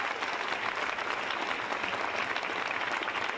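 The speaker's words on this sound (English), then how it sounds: "So I'd like to do a big clap." An audience at a charity ball breaks into dense, sustained applause, an even wash of many hands clapping at moderate distance, with no speech over it.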